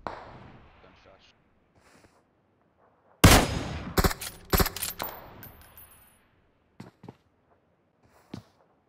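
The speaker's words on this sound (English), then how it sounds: "Gunshot." A loud burst of rapid gunfire in PUBG Mobile cracks out, followed by a few scattered single shots, with faint voices early on.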